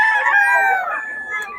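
A solid black henny rooster crows once, a long, loud drawn-out call with a clear harmonic tone that trails off near the end.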